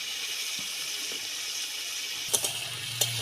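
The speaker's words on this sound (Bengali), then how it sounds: "মাছটা হালকা করে ভেজে নেব" Prawns fry lightly in oil in a pan for a prawn curry, giving a steady broadband sizzle throughout with a few soft clicks and small bursts near the end, no voices.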